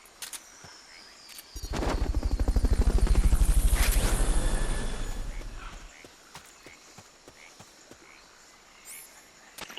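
Helicopter in the video game Metal Gear Solid: Peace Walker, a loud rhythmic rotor thumping that swells up from about two seconds, peaks, and fades out by six seconds, leaving quiet game ambience with faint scattered clicks.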